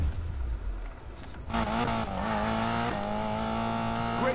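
A car drifts in Need for Speed Payback. After a quieter start, the engine rises and tires squeal loudly in a sustained, wavering screech that continues to the end of the run.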